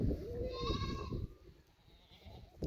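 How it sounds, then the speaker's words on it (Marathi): Goats in a farm shed holding Osmanabadi, Beetal and local Gavrani breeds, with one faint, wavering bleat at the start followed by quiet shuffling and low background sounds. "गावरानी आणि उस्मानाबादी त्याचबरोबर बिट्टल शेळ्या सुद्धा या ठिकाणी पाहायला मिळतील"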